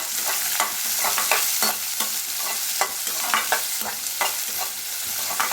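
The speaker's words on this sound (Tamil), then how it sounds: "நல்லா வதக்கிக்கலாம்." Chopped ginger, garlic cloves and onion sautéing in a pan with mustard seeds for Bombay chutney, a constant close sizzle broken by regular scraping strokes of a stirring spoon, with no voices.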